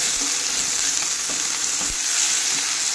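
Ginger-garlic-chilli paste with salt and turmeric sizzles loudly in a hot pan, with a spoon scraping and stirring through it in short repeated strokes.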